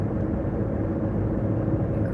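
Steady low rumble of road and engine noise fills a car's interior while driving, a continuous muffled drone with no talking.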